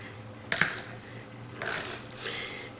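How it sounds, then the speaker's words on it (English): A socket wrench ratchets to loosen a part from a convection oven used for mug wraps, giving two or three short bursts of quick metallic clicks close to the microphone. "So I'm going to use my socket wrench here."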